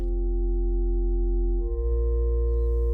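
A steady, sustained synth drone from Ableton's Operator with stacked harmonic layers; partway through, the low end shifts and beats slightly as the upper overtones of the oscillators interact.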